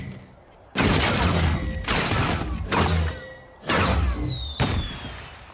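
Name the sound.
fireworks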